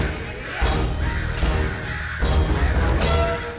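A crow caws repeatedly in an animated Aladdin series, with its harsh calls over a busy, dense background.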